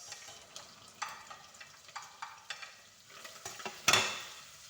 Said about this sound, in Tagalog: ilagay na natin ating bawang at sibuyas